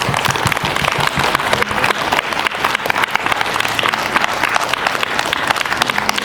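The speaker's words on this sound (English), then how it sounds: "Let us clap for all of them" Children and staff at a school World Environment Day assembly clap for students, producing loud, busy, sustained applause with many overlapping hands and a faint murmur of the crowd underneath.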